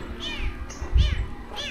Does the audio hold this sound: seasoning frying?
no